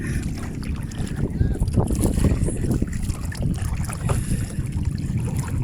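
Strong wind gusts across the water while someone paddles a small boat: loud buffeting wind noise with splashy paddle strokes and water movement close by, and a voice speaking intermittently.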